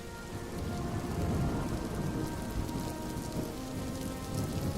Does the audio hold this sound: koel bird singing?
no